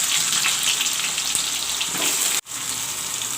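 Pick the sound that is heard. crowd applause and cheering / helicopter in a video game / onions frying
onions frying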